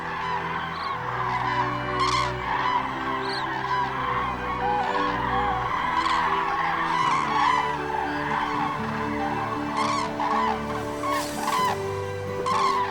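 A dense flock of migrating birds, including cranes, resting on the Danube in Serbia, with constant overlapping honks, calls and clucks at close to middle distance, loud and unbroken throughout with no talk.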